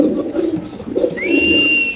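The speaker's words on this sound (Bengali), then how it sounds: "কবুতরের ডাকটা দেখাই দিই আমরা" A white Spanish pigeon gives a close, fairly loud coo, a low throaty burble followed by a rising whistle-like note near the end.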